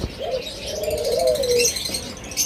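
Pet lovebirds or cockatiels in a cage, a breeding pair sitting on five eggs, give a soft cooing call that rises and falls, with faint chirps scattered above it.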